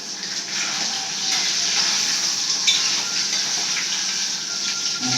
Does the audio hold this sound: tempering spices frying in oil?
yes